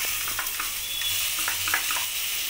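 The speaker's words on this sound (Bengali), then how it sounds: "কড়াইয়ে নাড়িয়ে চাড়িয়ে নেব" A paste of chili, garlic, ginger and onion sizzles steadily in a hot oiled wok, with a continuous loud crackle and a few soft scraping stirs.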